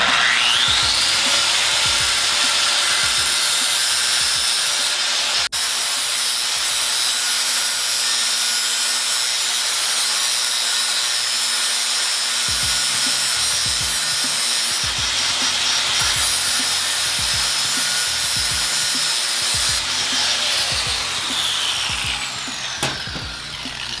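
An old chain being removed from a Honda Shadow motorcycle on a bobber build, with a loud, steady grinding and buzzing power-tool sound that runs throughout at close range.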